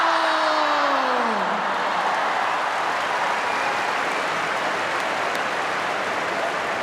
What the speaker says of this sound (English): Big round of applause there for Tony Dawkins and Lily